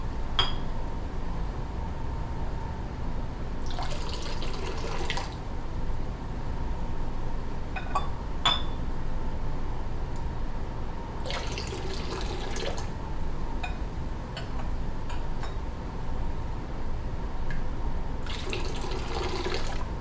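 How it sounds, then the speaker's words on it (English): Liquid trickles and splashes steadily in a ritual libation pour, with three louder bursts of splashing over a continuous running-water wash and scattered drips. "we make the final pour"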